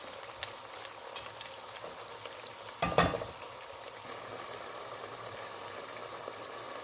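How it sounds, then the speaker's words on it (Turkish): Continuous crackling sizzle of potatoes frying in hot oil, with a short scraping stir partway through; no voices. "Ve kendi kendine kızarmaya bırakacağım."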